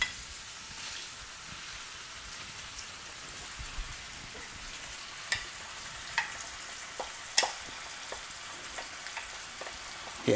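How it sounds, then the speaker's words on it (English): Mixed vegetables being stirred and fried with rice for Chinese fried rice, a soft continuous sizzle with scattered scraping clicks and taps from the stirring, quiet and close. "You add your mixed vegetables too, and also stir that together as well."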